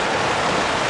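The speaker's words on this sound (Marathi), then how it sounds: "पाऊस बघ किती जोरात सुरू झाला आहे" Heavy monsoon rain pours down at a riverside campsite, a loud, dense, unbroken hiss of downpour close around, with no voices.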